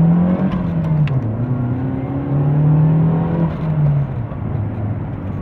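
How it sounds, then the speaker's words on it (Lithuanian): A supercharged Mercedes car accelerates, its engine note rising and falling through gears in a loud, close, droning whir, with no talking over it. "Pažiūrėkim, kaip peša mersiukas 2-3 kompresorius."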